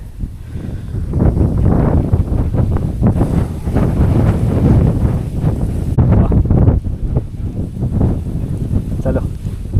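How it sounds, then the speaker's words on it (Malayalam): Strong wind gusting across a hilltop on a trek, loud and constant with heavy buffeting rumble on the microphone, and voices faintly underneath. "ഭയങ്കര കാറ്റ്."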